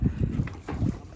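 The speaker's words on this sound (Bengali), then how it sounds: "ও এখানে তো জায়গার উপর ঘুরে ফেলতেছে।" A fishing trawler's engine throbs in low, pulsing bursts as the boat turns on the spot in the Sundarbans, with wind noise rushing over it.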